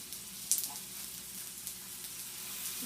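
An egg fries in bacon grease for okonomiyaki, giving a faint, steady sizzle with a single small pop near the start.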